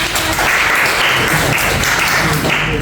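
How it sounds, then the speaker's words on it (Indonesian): Students in an economics classroom clap for a classmate. The applause is dense, loud and steady, with a few voices mixed in. "Tepuk tangan dong untuk Rasi"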